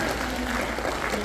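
An audience applauds a children's science team at a vacation Bible school event, steady clapping filling the short stretch with a voice faintly mixed in.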